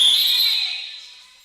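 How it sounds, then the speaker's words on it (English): A referee's whistle at a girls' high school basketball game gives one sustained, shrill blast that starts loud and slowly fades over about a second and a half. "and there's a whistle"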